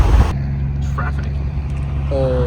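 Road traffic rumbling steadily close by during a severe-weather storm chase in Iowa, a continuous engine drone with a vehicle passing, heard from inside a car as people talk over it.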